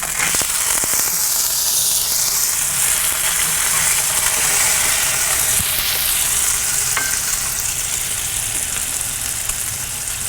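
Burgers searing in butter on the griddle side of a Kamado Joe grill, a loud, dense, unbroken sizzle that hisses continuously and close up throughout.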